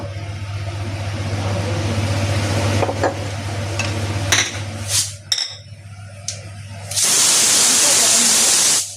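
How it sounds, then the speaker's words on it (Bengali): Ghee heating in a kadai for pulao, with a steady low hum and scattered clinks that give way to a loud, sustained hiss and sizzle in the last two seconds. "এবার আমি কড়াইতে অল্প ঘি দিয়ে দেব।"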